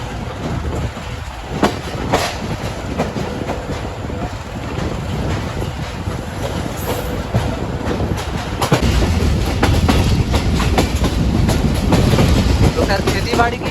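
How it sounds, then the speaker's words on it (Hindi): Bolan Mail passenger train running on rails in Pakistan, a loud continuous rumble with rhythmic clickety-clack of wheels and heavy wind buffeting, growing louder toward the end. "जुम्मा कोट पहुँची हमारी ट्रेन"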